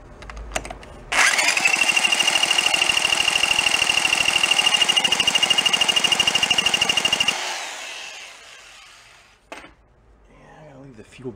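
An antique gas-powered hand drill engine is pull-started and catches, running as a loud, steady, rapid buzzing whine for about six seconds before cutting out, followed by quiet handling noises.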